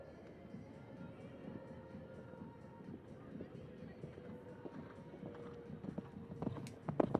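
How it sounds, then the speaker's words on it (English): Galloping horse hooves during a five-star show jumping qualifier in an arena, a steady drumming of strides building toward the jump, heard under continuous commentary and crowd ambience. "Hear the thundering hooves as she winds up, ready."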